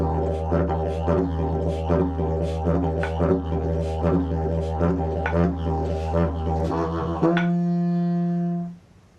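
Didgeridoo (yidaki) plays a deep, continuous droning tone with rhythmic pulsing overtones for about seven seconds, then shifts to a held steadier tone that fades out.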